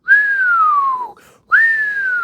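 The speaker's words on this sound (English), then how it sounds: "I was just whistling" A person whistles two long, clear descending notes with a short pause between them, close and alone.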